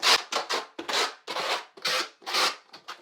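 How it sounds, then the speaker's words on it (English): Trowel's flat side spreading and working thinset onto a shower substrate in a series of short rhythmic scraping strokes, close and fairly loud, with no talking. "take your thin set and use the flat side of the trowel"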